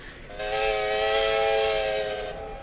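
Steam locomotive whistle from the Century of Steam video game: one long, sustained, bright multi-tone blast lasting about two seconds, loud and close, rising in and then cutting off over faint background hiss.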